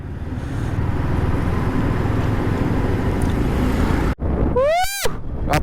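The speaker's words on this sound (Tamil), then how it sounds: "சரியான டிராஃபிக்கில் சிக்கிட்டோம்" Congested road traffic of cars and motorbikes near Valparai makes a dense, steady engine rumble with wind buffeting, followed near the end by a brief rising, pitched engine or horn tone.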